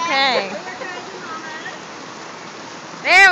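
Rain falls steadily as a soft, even hiss, with brief bursts of talking at the start and end.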